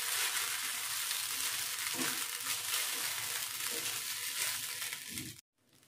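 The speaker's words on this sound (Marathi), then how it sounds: "आता मीडियम गॅसवर 5 मिनिटं मी परतून घेते छान शाबू" Sago and coarse peanut powder sautéing in a pan over medium heat, a soft continuous sizzle with light stirring scrapes, quiet and close, cutting off abruptly near the end with no talking.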